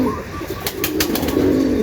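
Racing pigeons coo softly in the late-morning heat, a close, low murmuring amid a noisy outdoor background, with a few faint rustles.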